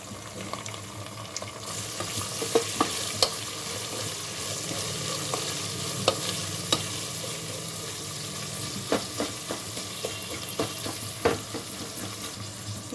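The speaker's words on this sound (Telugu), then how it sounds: "ఆనియన్స్ కట్ చేసుకొని వేసుకోవాలి." Chopped onions frying in a pan with cumin seeds and curry leaves, a continuous moderate sizzle broken by scattered sharp crackles and spoon clinks, heard close with no voices.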